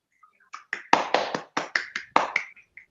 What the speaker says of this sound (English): Help me welcome our president for today's meeting, Gavel Abhijay Sajeev, with a loud round of applause.